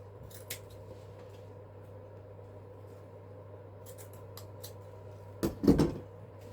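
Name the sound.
scissors cutting ribbon for artificial spring wreath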